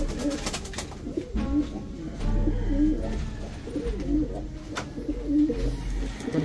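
Young pigeons cooing at a breeding loft on a rainy day, soft repeated low coos overlapping at close range, loud and continuous with no talking.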